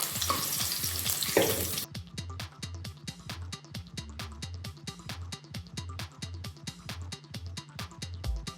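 Garlic and ginger fry in oil for a paneer curry, with a soft sizzle under a fast, regular rhythmic tapping or stirring that runs steadily after an initial louder burst.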